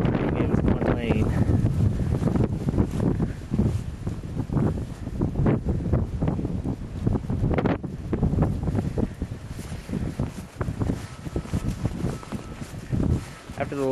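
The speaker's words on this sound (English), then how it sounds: "This one is much colder, much windier." Strong cold wind during a blizzard on a snowy street, gusty roaring buffets hitting the microphone up close and loud, with a person talking throughout.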